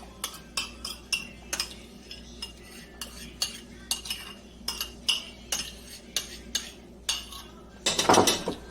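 A whisk rattles and clinks rhythmically against a bowl as a warm sugar mixture is beaten, with steady repeated strokes close by and a louder flurry of scraping at the end.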